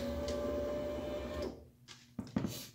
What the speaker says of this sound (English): If you listen, you can hear a valve.